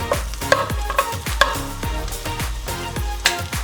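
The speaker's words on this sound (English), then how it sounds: "let's do the garlic first, and let's toast that up a little bit" Garlic toasting in a pan gives a close, lively sizzle with rhythmic stirring scrapes and a few sharper clicks of the utensil against the pan, all without talk.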